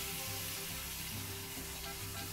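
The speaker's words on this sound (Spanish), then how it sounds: "Pasamos la tortilla por la salsa, al comal y listo. Dejamos que se caliente un poquito, le damos la vuelta." A tortilla dipped in red enchilada sauce sizzles on a hot comal, a steady, close, dense crackling hiss that continues throughout with no talking.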